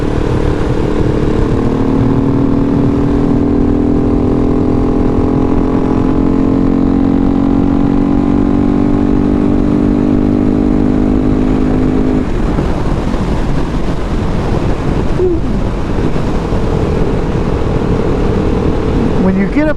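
A 2019 KTM 690 SMC R supermoto ridden at speed, its steady engine drone and wind rush running continuously near the microphone, easing off partway through with a shift in tone.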